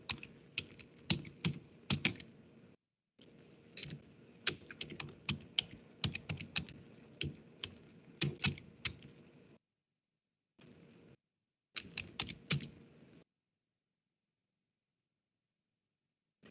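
Someone types a command on a computer keyboard in quiet, close bursts of rapid key clicks with short pauses, then a final lone keystroke.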